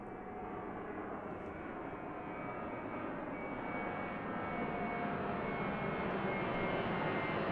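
An airplane taking off at Christchurch Airport, a steady broad engine roar that slowly builds in loudness over several seconds, heard from a distance and alone.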